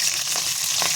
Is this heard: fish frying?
yes